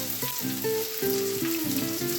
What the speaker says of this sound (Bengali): আর পেঁয়াজ ভাজাটা হচ্ছে